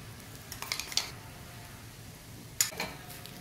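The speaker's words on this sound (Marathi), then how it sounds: "हे सगळं व्यवस्थित मिक्स करून घेऊया" Spoon scrapes and taps against a pan while turmeric, red chilli powder and spice masala are stirred into onions, a few faint clinks over a soft background.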